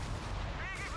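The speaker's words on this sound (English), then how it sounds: "enemy fire!" Dense, rumbling gunfire and artillery from a Company of Heroes 3 battle, a short continuous barrage of overlapping shots and blasts.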